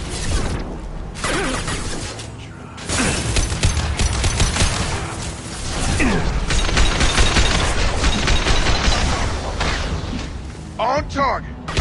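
Rapid bursts of gunfire in a PS4 game clatter in dense volleys across most of the span, loud and up front, mixed with impacts and effects while in-game voices shout over them.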